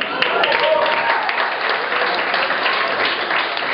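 An audience at a speech applauds steadily throughout, a dense, even clapping that may have some talk underneath.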